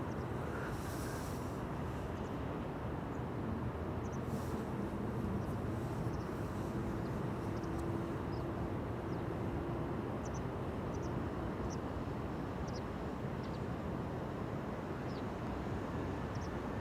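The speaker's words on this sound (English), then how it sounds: "Delta Airlines Flight 143 to Seattle, Washington, undoubtedly on its way to the center runway" Delta Airlines airliner taxiing toward the center runway at Amsterdam Schiphol, a steady low jet rumble mixed with broad wind noise running throughout, distant and unchanging for the whole stretch.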